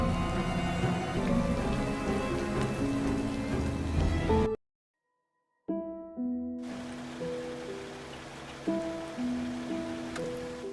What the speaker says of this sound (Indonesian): gerimis yang sedikit lebih keras mengguyur daratannya yang tengah dilanda kepekatan malam kala itu